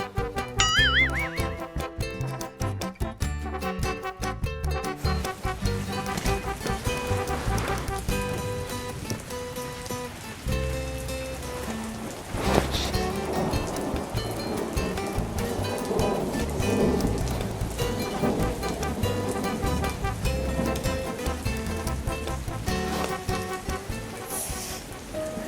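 Heavy rain falls steadily throughout, with rumbles of thunder, mixed with music and occasional voices in an animated children's dinosaur episode.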